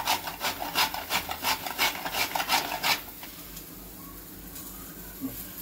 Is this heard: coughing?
no